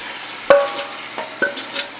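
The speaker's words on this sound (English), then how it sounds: "Now you want to go ahead and take your pork and add it into the pot." Pork dropped into a hot pot of caramelized sugar gives a sudden loud hiss and crackle, followed by a few softer sizzling bursts and stirring scrapes over about two seconds.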